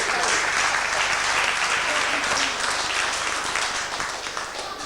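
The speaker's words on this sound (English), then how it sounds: "Give her a big clap for picking the two." A school hall audience at an evening magic show applauds after a card trick, a full round of massed clapping that holds steady and then gradually thins, with speech faintly beneath.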